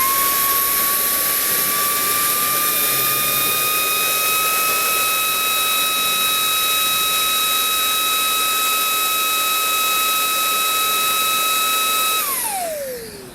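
A Makita cordless blower runs flat out at full power, a loud steady high-pitched whine with a strong rushing airflow that holds for about twelve seconds, then winds down sharply at the end.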